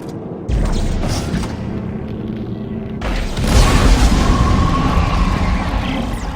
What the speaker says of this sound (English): Once we overheat it enough, it should hopefully explode and get rid of those tentacles.